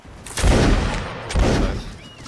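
Video game cannon fire from a ship during a siege, two loud booming volleys in quick succession with rumbling tails.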